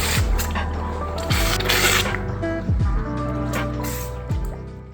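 A hot casting flask from gold jewellery casting is plunged into water, with sizzling, bubbling and spitting, several sharp hisses recurring over a steady watery rush.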